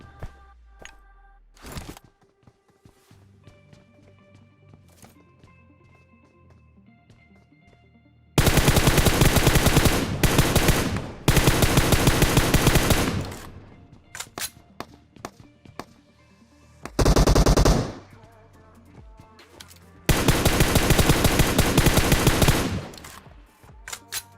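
Rapid automatic rifle fire from PUBG Mobile rattles in several dense, loud bursts of a few seconds each, separated by quieter stretches of game ambience and scattered single shots.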